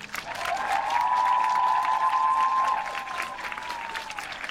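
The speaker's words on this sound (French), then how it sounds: "Et je vais vous demander d'applaudir Maureen." Studio audience clapping to welcome a guest onto a talk-show couch, a steady dense burst of applause that swells, holds loud and then tapers off, with no talk over it.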